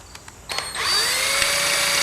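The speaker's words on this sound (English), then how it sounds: "he's going to help me drill this out" A power drill, used to drill out a part on an Allis Chalmers 310 tractor, starts after a couple of soft clicks and whines up to a steady high-pitched run, close and loud.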